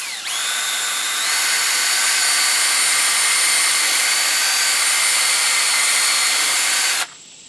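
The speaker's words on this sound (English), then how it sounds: "then I'll take a drill" A power drill boring a starter hole into a tree trunk for hanging a wooden tree stand, a loud close steady whine that runs for about seven seconds, then stops abruptly.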